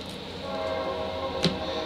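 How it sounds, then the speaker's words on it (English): A train passes in the distance, a faint, steady rumble with a brief louder burst near the end, heard from indoors. "And there goes the train."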